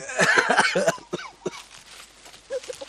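A man with an itchy, sore throat coughs in a short burst of several harsh, close coughs, followed by a few fainter throat sounds and brief voiced noises.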